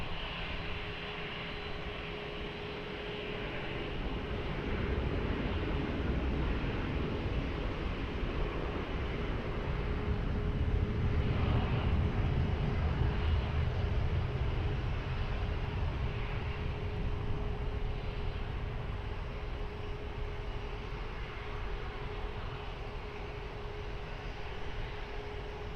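A passenger jet takes off from a runway at Lisbon Airport, its engine roar rising into a broad, steady rumble that swells to a peak midway before easing slightly, loud and continuous with no voices.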